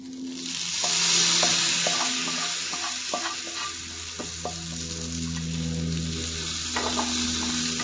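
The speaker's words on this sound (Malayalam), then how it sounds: "ഇത്രയാവുമ്പോഴേക്കും നമുക്കിനി അതെടുത്ത് കറിയിലേക്ക് തട്ടിക്കൊടുക്കാം" Roasted coconut tempering poured into papaya koottucurry for a Kerala sadhya, giving a steady loud sizzle with small stirring clicks throughout and no talking.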